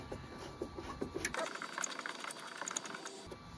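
A headlight aim adjuster on a Chevrolet Silverado is turned clockwise through five turns, giving faint, quick clicking and ratcheting against a quiet background.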